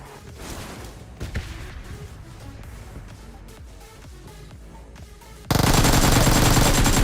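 Gunfire in a PUBG-style battle royale shooter, dense bursts of shots crackling through the first five seconds, then a sudden loud, sustained wash of noise takes over to the end.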